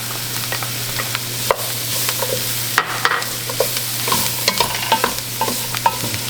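A spoon scrapes and clacks through holy trinity vegetables and garlic frying in a pot for Louisiana seafood gumbo, steady sizzle underneath with irregular stirring knocks, close and loud.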